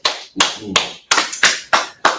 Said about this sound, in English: let's clap it up for that brother